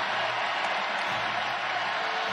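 A basketball arena crowd roars steadily through the final seconds of overtime in an Iowa versus Ohio State game, a dense, sustained wash of cheering with no breaks.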